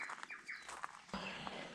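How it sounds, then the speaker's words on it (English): Small birds chirp and tweet in quick, bright bursts on an autumn morning beside a moored boat, a few calls overlapping at moderate distance in otherwise quiet surroundings. "I'll listen to the birds as they wake up"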